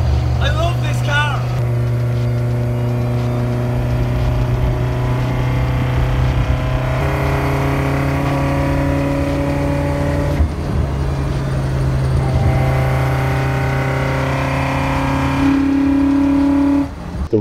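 A Toyota AE86 Corolla engine at a Hachiroku festival in Okayama, Japan, holds a loud, steady, buzzy drone whose pitch shifts as the revs climb and settle. Voices can be heard faintly beneath the engine noise.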